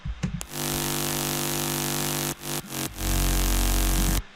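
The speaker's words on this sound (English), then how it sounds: "we added some fart synths" A thick, buzzy fart bass synth, a layered dubstep-style sound, drones loud and sustained in a music production. It cuts out briefly for a few stuttering gaps, then returns with heavier low end.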